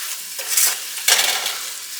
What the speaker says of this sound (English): Gonna give this a good stir.